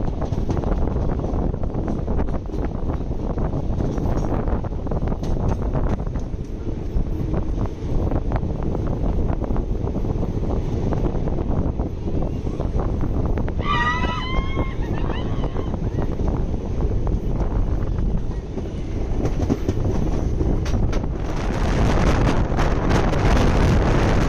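A train runs near Daulatabad railway station on the Aurangabad–Manmad line, heard as a loud, steady low rumble mixed with heavy wind buffeting, plus a brief high wavering squeal or horn partway through.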